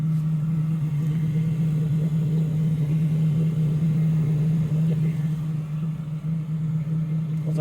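A diesel heater running after starting up, a steady low droning hum with constant combustion rumble, close by and unbroken.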